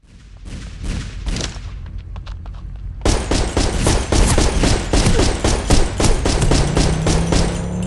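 Rapid gunfire rattles out in the MadOut 2 video game, a few scattered shots followed by sustained loud automatic bursts that dominate the sound.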